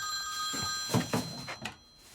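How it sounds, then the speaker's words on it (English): A telephone bell rings indoors in a few clear bursts, fairly close, with no talking over it. "Rowan, grab the phone, please."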